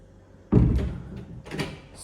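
A house door opens with a single loud, close knock-and-swing noise, followed by softer rattling and a faint creak as it settles.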